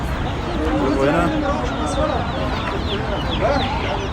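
Local free-range chickens clucking at a poultry market, a constant close chorus of clucks and squawks with other fowl nearby and people talking underneath.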